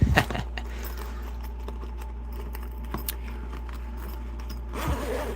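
A bag's zipper is pulled open with scraping, rasping strokes near the start, followed by quieter rustling and faint jangling, then another burst of zipper and handling noise near the end, close up with no talk.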